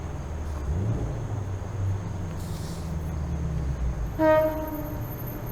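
A train rumbles steadily in the distance, then its horn gives a short, clear toot near the end.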